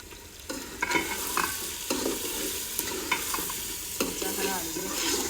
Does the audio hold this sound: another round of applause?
no